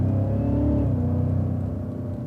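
A Cadillac CTS-V on a race track, its engine droning with a deep, steady roar as it accelerates over a hill crest, close and loud throughout.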